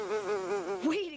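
Flies buzzing in an animated jungle scene: a close, wavering insect drone with rising and falling pitch, alone, briefly swelling near the end.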